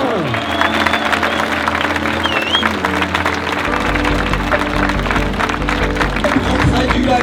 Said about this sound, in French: vous allez pour tous les bénévoles me faire un maximum d'applaudissements s'il vous plaît